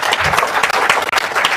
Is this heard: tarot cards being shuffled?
no